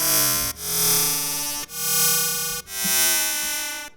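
Sustained, buzzy analog synthesizer tones swell in three long notes with sharp re-attacks, each washed in a spacious reverberant tail.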